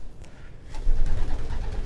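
A Quetta racing pigeon coos in low, soft, rumbling tones close by, with no talk over it.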